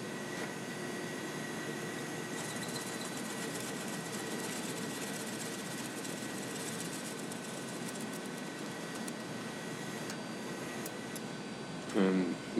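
A bandsaw runs steadily with a continuous mechanical hum and whine while cutting the outer edge of a wooden ring-light workpiece, staying even throughout before a brief voice breaks in near the end.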